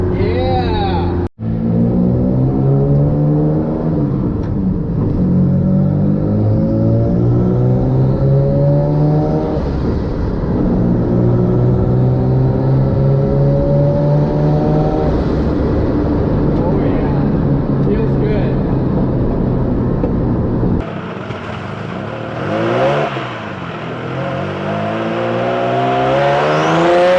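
A twin-engine car is revved repeatedly while warming up, the rising and falling engine notes loud and close and sustained, with a short pause before a final set of rougher revs.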